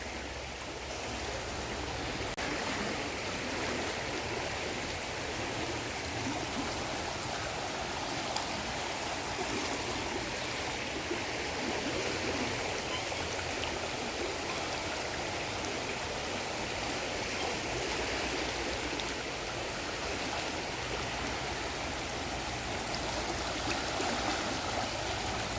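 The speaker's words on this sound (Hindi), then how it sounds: "माँ गंगा की कलकलाती हुई आवाज़" The Ganga river at a Haridwar ghat rushes and gurgles steadily, a constant, even wash of flowing sound with nothing else standing out.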